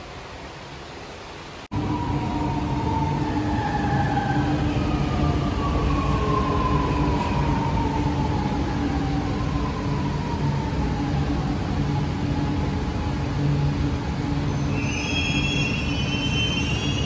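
A Chennai metro train rolls into the station, with a loud, steady rumble of wheels on rail and drawn-out metallic squeals rising and falling throughout. No one speaks.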